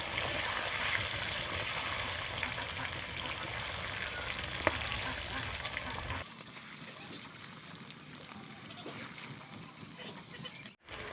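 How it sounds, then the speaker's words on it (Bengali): Eggs sizzling in hot oil in a pan as they are stirred, a continuous crackling fry with soft scraping, moderately loud, with a change in tone partway through. "এখন নাড়াচাড়া করে দেবো ডিমগুলোকে"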